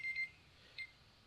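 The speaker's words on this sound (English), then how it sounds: "Well, there's the alarm." Faint electronic alarm-clock beeping in a room: a quick cluster of high, piercing beeps, then a pause and one more short beep, quiet against a low background.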